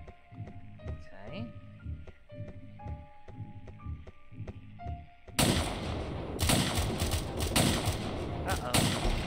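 Rapid gunfire bursts from the video game Of Murder and Moonshine, loud dense volleys in the second half after a stretch of game music with a voice speaking.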